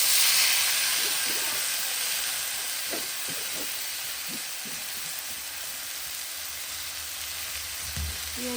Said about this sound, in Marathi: तर मी तेल पसरून घेतलंय सगळीकडे आता आपण डाळ टाकूया